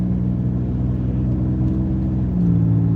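A car's engine hums low and steady as it gradually picks up speed on a night drive, with the tone rising slightly near the end.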